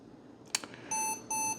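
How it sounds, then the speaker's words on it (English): An electronic gadget from Japan gives two steady high beeps after a short click as it powers on, close and fairly quiet in a still room. "see if now, when we turn it on, if it makes the same beeping noises"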